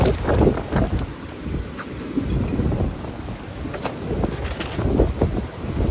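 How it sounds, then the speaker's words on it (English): Strong wind gusts buffet the microphone outdoors in a garden, a loud, uneven rushing roar with irregular bursts and no other clear sounds. "this is ridiculous how windy it is out here"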